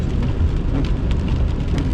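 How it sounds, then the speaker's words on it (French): Heavy rain pours steadily during a thunderstorm chase, a dense close hiss of drops drumming on a surface, likely a vehicle, with a low rumble underneath. "Donc, c'est pas mal de la pluie, là."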